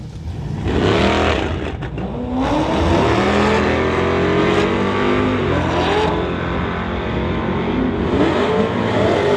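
A 1978 Pontiac Phoenix running a 406 engine drag races a Corvette, with loud close engines revving hard through rising gear changes and a brief tire squeal.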